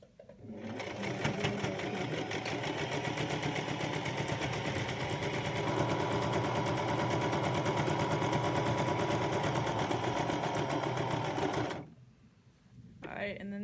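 A sewing machine stitches a cloth face mask in one long, steady, rapid mechanical run of about eleven seconds that then stops abruptly, followed by a brief soft shuffle.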